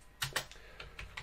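Several quick keystrokes on a computer keyboard while entering a command in an EFI shell, six or so soft clicks in an uneven rhythm, close and quiet with no talking.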